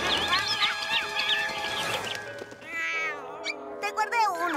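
A cartoon cat gives several high, wavering meows up close, sharp and clear, with voices talking around them in a children's animated show.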